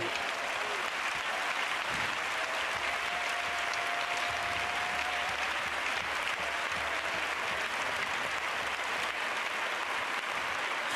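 Worshippers at a church service keep up a long, continuous round of applause, a thick and even wash of many hands clapping at a constant moderate level throughout.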